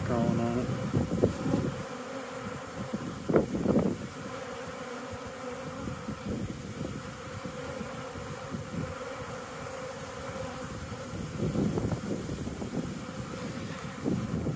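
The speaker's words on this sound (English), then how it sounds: "Some bees crawling on it." Bees buzz around a hive where nucs are being installed, a continuous outdoor hum with swelling passes of nearby insects and some wind noise on the microphone.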